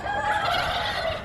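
A turkey gobbles close by, a rapid warbling call that rolls on for about a second, loud and clear.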